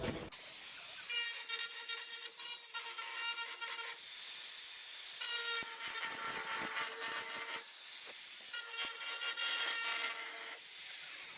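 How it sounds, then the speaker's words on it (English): A grinder works against a camper wall in three bursts of a rasping, whirring abrasive grind, each lasting a few seconds with short pauses between, close and fairly loud, no voices. "So I don't want this part sticking, the wall sticking, so I'm using the grinder."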